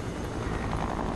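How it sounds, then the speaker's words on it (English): A helicopter in the Fortnite video game drones with a steady, loud rotor whir that stays constant throughout. "Quick! Get in the helicopter!"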